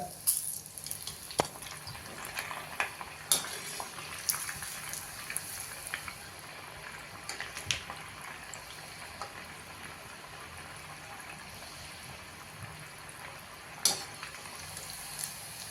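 Medu vada fry in hot oil over a medium gas flame, giving a quiet, steady sizzling hiss with scattered small crackles and pops throughout.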